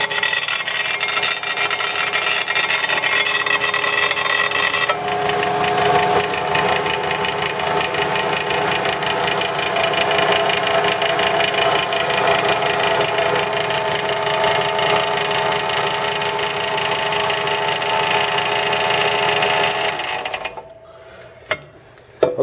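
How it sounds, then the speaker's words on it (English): A Kalamazoo K7B 115-volt cutoff saw runs with a loose shroud rubbing against its wheel, giving a loud, continuous grinding whine after switch-on that holds steady for about fifteen seconds before cutting off abruptly. "we're just going to fire it up, show you that it does operate"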